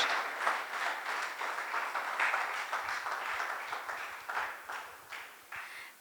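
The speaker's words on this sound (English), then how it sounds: "So a big round of applause to Ameeer, Shahul." An audience at a book awards ceremony gives a sustained round of applause for an honoured winner, many hands clapping in a dense, steady wash that swells and gradually tapers toward the end.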